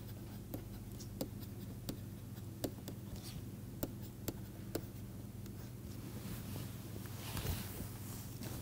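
Chalk or pen tapping and scratching on a board during a mathematics lecture, a series of sharp, evenly spaced ticks over a steady low room hum, fairly quiet with no talking.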